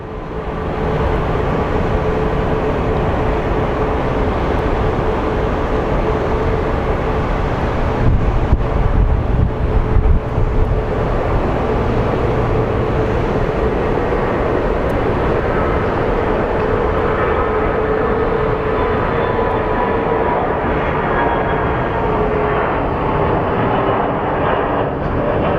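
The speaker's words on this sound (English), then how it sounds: "And we have a United Airlines Embraer." A United Airlines Embraer jet airliner roars steadily at Phoenix Sky Harbor International Airport, a loud and sustained engine rumble with wind buffeting the microphone through most of it.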